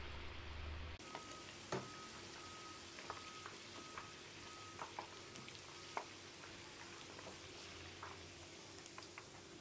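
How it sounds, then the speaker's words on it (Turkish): Steady, even sizzling of chopped vegetables frying in a pan, with a few small clicks and knocks over the constant hiss and no talking. "Ben de bu arada hemen doğramış olduğum sebzeleri kızartmaya başlıyorum."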